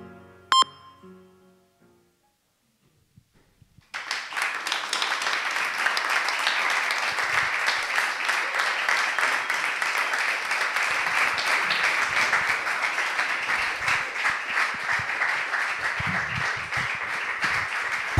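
After a short electronic beep and a few seconds of silence, an audience at a live poetry and music show bursts into sustained applause, a dense, even roar of many clapping hands lasting to the end.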